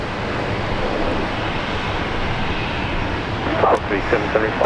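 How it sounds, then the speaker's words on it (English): A Virgin Australia airliner rolls for takeoff on runway 19 right at Brisbane International Airport, a steady broad engine roar throughout, with brief louder bursts near the end and radio chatter over it. "Runway 19 right, Virgin Australia taking off."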